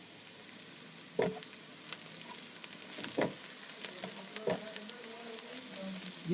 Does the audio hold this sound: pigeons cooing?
no